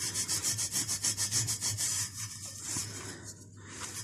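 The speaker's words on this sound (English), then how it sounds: "We're just going to clean this up with a Scotch pad." Scotch pad rubbed quickly back and forth over a Ford Fiesta exhaust pipe sprayed with brake cleaner, a fast rhythmic rasping that goes from loud and close to softer, steadier scrubbing.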